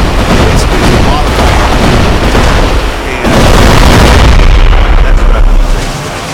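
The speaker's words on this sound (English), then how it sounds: "That was explosion." Explosions from weapons in Homebrew Vehicle Sandbox, a vehicle-building sandbox game, loud and sustained with dense booming rumble, a brief dip near three seconds, then another heavy blast-laden stretch.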